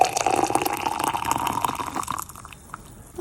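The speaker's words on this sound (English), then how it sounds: "First, we're going to put some hot water in there just to dissolve it." Hot water pours steadily into a cup of apple tea powder, a continuous close splashing stream that tapers off into a quieter trickle near the end.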